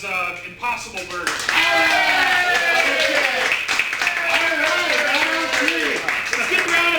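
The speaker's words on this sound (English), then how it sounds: "Let's give a round of applause for that." Applause from a live improv comedy show audience swells after a brief pause and carries on steadily, with a loud voice talking over the clapping.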